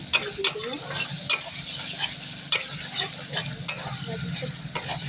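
Mixed vegetables sizzle steadily in a pan while a spoon stirs and scrapes, with sharp utensil clinks recurring every second or so, close and fairly loud throughout.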